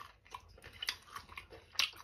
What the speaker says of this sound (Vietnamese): Cắn thử phần nửa cái nè.